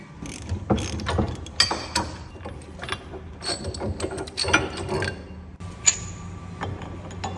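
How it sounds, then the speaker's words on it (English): A hand-turned hub bearing press tool presses a wheel hub flange back into its bearing, giving repeated metallic ratcheting clicks and clinks at an uneven pace. The sound is close and fairly quiet, with no talking. "We're going to use this tool. We're going to manually press the hub back in."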